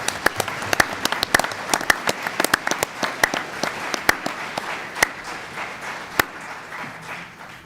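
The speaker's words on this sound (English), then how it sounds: "Let's give him a round of applause." Applause for a special bailiff at a Nebraska Supreme Court session held at a school, loud and close, with sharp individual claps standing out over a dense patter that gradually thins out.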